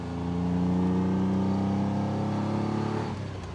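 Ferrari Dino 246 GTS engine pulling through the gears on a farm road, a steady mid-loud drone that rises in pitch over a few seconds before easing off, heard from inside the car.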